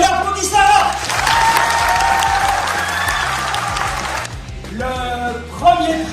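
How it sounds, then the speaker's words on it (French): Audience applause for a young prize winner at a youth public-speaking contest, a burst of clapping with some cheering over steady background music, then a sudden cut back to music alone. "Et on applaudit Sarah."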